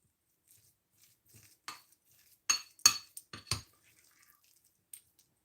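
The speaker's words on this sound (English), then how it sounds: "You keep stirring and stirring." A spoon clinks against a bowl while stirring a sandwich mixture in a home kitchen, giving a few sparse, light metallic taps and scrapes with quiet gaps between them.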